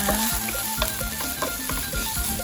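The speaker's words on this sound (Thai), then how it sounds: "พริกแกง คั่วให้น้องแบบมีกลิ่นหอมนะคะ" Store-bought Thai curry paste, about two tablespoons, stir-fried on low heat in a pan for pumpkin curry, crackles with a steady close sizzle broken by scraping spatula strokes and light clinks, with no voices.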